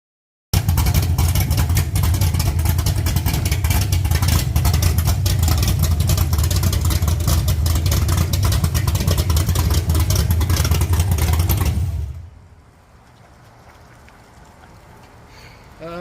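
A rowdy car engine revs hard and loud for about twelve seconds in a thick, rumbling roar with rapid clattering pulses, then cuts off abruptly into quieter background noise.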